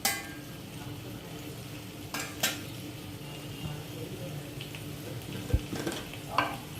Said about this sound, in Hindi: इसके ऊपर मैं ये कैप्सिकम भी डाल रही हूँ।